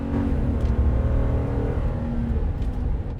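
Ram 1500 pickup truck engine revving high during a 0-60 launch test: a deep, throaty engine roar rising and holding, loud and close, with no voices.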